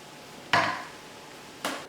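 Bullion hops being stirred into boiling wort in a Grainfather kettle: two short, close scraping swishes about a second apart, over quiet background.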